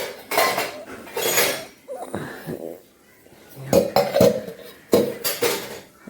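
Dry kitchen utensils, pots and pans are handled and stacked in bursts of clattering metal clinks and knocks, close and fairly loud, with short pauses between handfuls.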